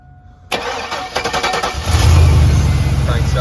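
A Chevrolet with a suspected bad fuel pump cranks with a rapid starter whir, then catches and runs with a loud, rough idle. No one speaks.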